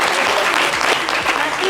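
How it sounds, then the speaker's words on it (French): Brief, steady applause from an audience for a guest named Jojo on a live show, a short stretch of dense clapping with a voice faintly underneath. "Applaudissements pour Jojo, s'il vous plaît."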